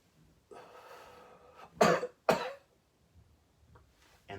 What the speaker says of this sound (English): Exhale, and then you're going to cough 2 times.